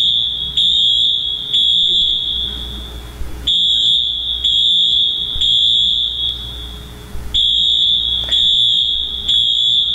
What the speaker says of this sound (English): And I'm sure the steam got the smoke detector.